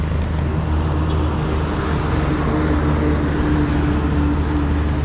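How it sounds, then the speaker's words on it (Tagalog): Fast road traffic passing pedestrians, heard as a loud, continuous rumble and roar of vehicles with no distinct single pass-by and no talking. "Ang bilis pa din nila magpatakbo ng sasakyan."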